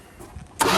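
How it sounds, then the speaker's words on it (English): A 1972 Dodge W100 truck engine, idle for fifteen years, cranks quietly and then catches with a sudden loud roar that carries on steadily to the end. "All right, crank it."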